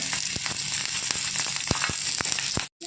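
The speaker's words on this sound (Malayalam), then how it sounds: "ഈ പച്ചമുളക് ഓരിയുന്ന വിധം ഇതിലേക്ക് ഇട്ട് കൊടുക്കാം" Green chillies fry in hot oil with a loud, continuous sizzle, sprinkled with sharp pops and crackles throughout, close up and with no voices.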